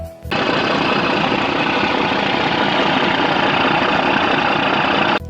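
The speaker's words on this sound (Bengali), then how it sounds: "আর এখন আছি আমরা লজের ইঞ্জিনের কাছে আপনারা একটু লজের ইঞ্জিনের সাউন্ডটা শুনুন" Engine of a passenger launch boat on the Dhaka to Barishal route, a loud, continuous diesel rumble with a rapid mechanical chatter, heard up close and steady for several seconds.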